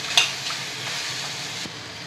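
Chopped guava being stirred into a fenugreek tempering for panchamrut in a hot pan: a steady, close sizzle with a single sharp utensil clink near the start and soft scraping strokes.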